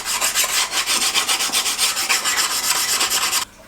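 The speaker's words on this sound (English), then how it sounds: "we need to put a bit of an edge onto the blades. I have a oil stone here," A garden tool blade is drawn back and forth across an oil stone, giving steady rhythmic rasping strokes, loud and close, that run for a few seconds and then stop abruptly.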